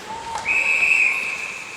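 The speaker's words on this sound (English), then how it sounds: "And this is a whistle here and something off the puck." A referee's whistle blows during a women's college ice hockey game, RPI against Minnesota State Mankato: a single shrill, sustained blast of about a second over steady arena crowd murmur.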